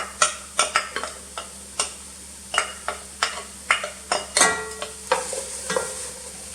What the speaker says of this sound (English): now we're going to get all the onion in there